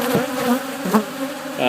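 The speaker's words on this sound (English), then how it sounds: "I'm not sure if you can hear me over the din of the bees" Honeybees swarm around blooming Brazilian pepper shrubs in South Florida, a loud close droning buzz with individual bees rising and passing near, continuous throughout.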